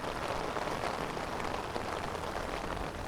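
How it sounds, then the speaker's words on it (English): Steady rain falls in Long Island City, New York, near the ferry landing and Manhattan skyline, a dense, even hiss of drops on pavement and surfaces throughout, with no voices. "She's really caught in the rain."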